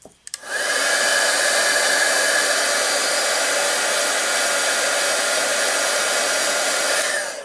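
A heat tool blasts hot air to melt embossing powder on a sheet of acetate, a steady loud whooshing roar that starts after a brief click and runs unbroken for about seven seconds, close by with no talk.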